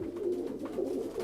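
Female pigeons coo in a loft, a soft continuous low warbling close by, with no talk.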